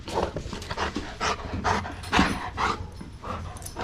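A dog pants close by in quick, breathy, rhythmic bursts, loud and near, with no talk over it.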